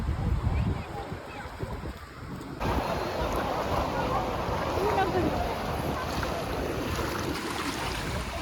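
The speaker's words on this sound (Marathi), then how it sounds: "आम्ही आलेलो आहोत गोराई बीचला." Waves and wind at Gorai beach, a steady broadband roar of surf and wind buffeting the microphone that grows fuller after a brief quieter start and carries on without a break.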